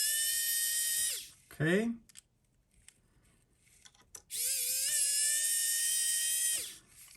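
A small high-pitched power tool whines in two long steady runs, taking the screws out of the bezel of a limited-edition Rubik's Cube G-Shock watch, with a short scraping burst between them and a brief spoken word.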